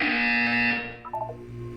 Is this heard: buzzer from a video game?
yes